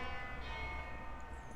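A bell rings with a steady, sustained metallic tone over low rumble during an online university exam review lecture, heard alone and fairly quiet.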